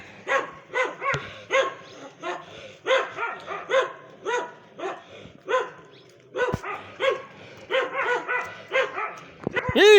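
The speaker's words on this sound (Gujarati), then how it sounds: "હવારમાં કૂતરાના ડખા થાય" Village dogs scuffling in the morning, with rapid, close, loud barks and yips in uneven bursts and short pauses between them, and a rising whine or whimper at the end.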